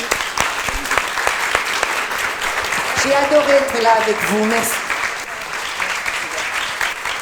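Applause at a Paris club talk evening for a departing guest, clapping from a modest audience running throughout, with a voice speaking briefly over it midway.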